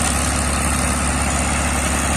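A large cargo vessel loaded with about 6,000 tons of sand runs its engine in a constant, loud low rumble and drone, unbroken and close, with no voices over it.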